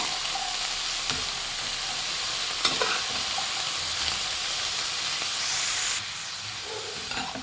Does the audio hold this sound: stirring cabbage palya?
yes